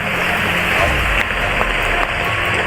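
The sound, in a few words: heavy rain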